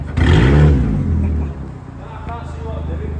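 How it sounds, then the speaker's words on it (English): A loud engine revs up sharply, then settles into a rough rumbling idle, close by. "It's the rally car sound."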